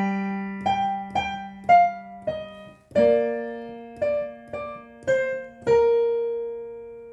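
A piano plays part 3 of the Carol of the Bells chorus, with about ten single, separate notes over a held low note, clear and unaccompanied.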